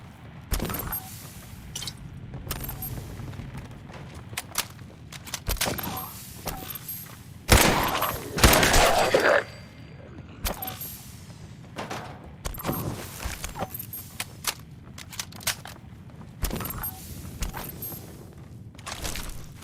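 Fallout 4 video game gunfire cracks out in sharp separate shots, spaced irregularly, with one denser, louder burst in the middle, between quieter footsteps and clatter.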